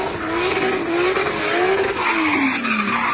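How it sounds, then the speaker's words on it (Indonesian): A toy race car makes a continuous, loud electronic sound effect of an engine revving and tires squealing, rising and falling in pitch. "Mobil balap."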